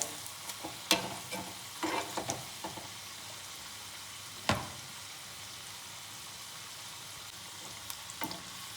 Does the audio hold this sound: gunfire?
no